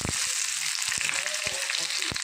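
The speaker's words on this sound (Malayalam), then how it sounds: "അതിലേക്ക് ചെറിയ ഉള്ളി അരിഞ്ഞു വെച്ചിരുന്നത് ചേർത്ത് കൊടുക്കാം." Chopped shallots sizzle in hot oil with mustard seeds and fenugreek for a Kerala-style pumpkin curry, giving a steady, close frying hiss with sharp crackles and pops throughout.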